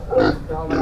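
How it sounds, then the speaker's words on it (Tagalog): A pig at close range gives two short nasal oinks separated by a brief pause, loud and near. "May baboy, oh. May pig."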